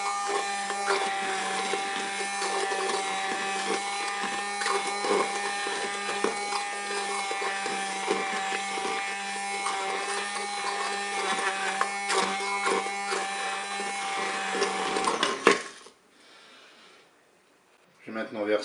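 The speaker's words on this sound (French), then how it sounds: "Je vais maintenant mixer mes fruits." Fruit for a multi-fruit compote being mixed with an electric blender, a loud continuous whirring drone for about fifteen seconds that stops abruptly, followed by near silence and a small bump at the end.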